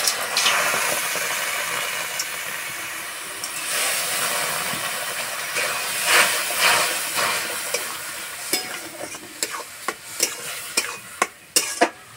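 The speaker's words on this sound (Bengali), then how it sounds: "এবার দেবো এই বাটি 2 বাটি জল। 1 বাটি সুজি দিয়েছি, 2 বাটি জল দিতে হবে।" Water poured into a hot pan of semolina sets off a loud, rushing hiss that slowly fades into bubbling and steam, with sharp clattering stirs and knocks toward the end; no speech.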